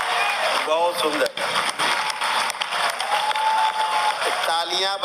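Applause from an audience at a spiritual discourse gathering, continuous and fairly loud for the whole stretch, with a voice talking over it.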